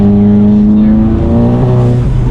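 A 350 HP VW MK7 GTI engine revving hard under acceleration, loud and close, its pitch climbing and stepping through gear changes across a short pull.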